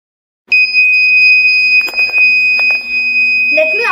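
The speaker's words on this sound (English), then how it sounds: "So this beep will indicate the athlete to not drink the water beyond the measured level." A homemade water-level circuit fitted to an athlete's drinking bottle sounds a steady, loud electronic beep tone held continuously after a silent start, with some handling clicks and a voice speaking near the end.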